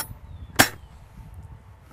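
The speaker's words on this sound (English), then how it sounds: "216 on the first shot." A single sharp airsoft shotgun shot from a UTG Multishot firing 0.20 g bio BBs, one loud close crack with a short tail over faint background noise.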